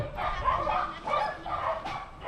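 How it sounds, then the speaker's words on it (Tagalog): Several dogs on a long village road bark and yip in short repeated bursts, fairly close and loud against faint outdoor background noise. "Tingnan na natin yung mga aso. Ang daming aso, no? Maraming aso"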